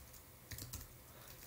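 Someone types code on a computer keyboard: a few quiet, close keystrokes tap out in a short burst against a faint background hiss.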